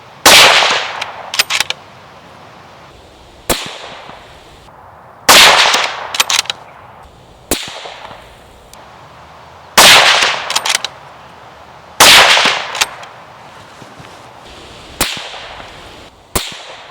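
A CZ 600 Range bolt-action rifle fires a series of loud, sharp shots, about six or seven spaced a couple of seconds apart, each with a quick crack and short decaying echo, with quieter handling clatter between shots.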